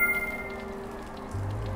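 Steady rain falling on an outdoor theme park, Disneyland, on a wet day, a soft continuous patter and hiss with a low rumble joining near the end, with no talking.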